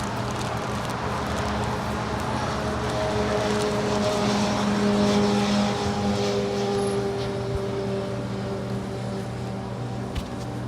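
A Cathay Pacific Cargo Boeing 747-8 departing LAX, a steady distant jet roar with a low droning hum, holding at even loudness throughout.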